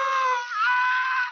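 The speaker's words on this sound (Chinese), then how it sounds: "强尼发出痛苦的惨叫" A man burning alive lets out a single high, strained scream of pain, loud and sustained for over a second before cutting off abruptly.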